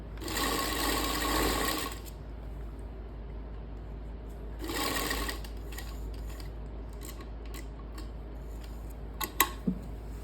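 A domestic sewing machine runs in two short bursts while stitching a seam on a suit or kurti, followed by small clicks and snips from handling the fabric, with no voices.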